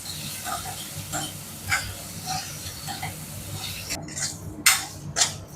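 Boiled eggs and potatoes frying in oil in a pan, with a soft sizzle and a few metal clinks and scrapes of a utensil, growing louder near the end.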